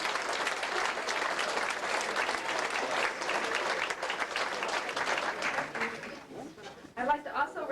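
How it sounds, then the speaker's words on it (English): Sustained applause from the audience at a 1993 homecoming reunion dinner dance, a dense wash of clapping that holds steady and then thins out near the end, with a few voices under it. "I think that deserves a great big round of applause."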